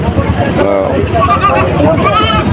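Goats bleat repeatedly at the busy Chuknagar cattle market in Khulna, Bangladesh, loud and close, over a steady babble of crowd voices.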